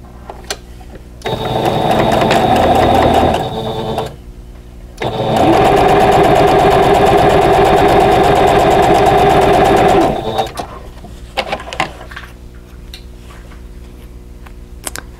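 A sewing machine stitches quilt block seams in two steady runs of rapid mechanical whirring, loud and close, with a short pause between them and quiet handling clicks afterward.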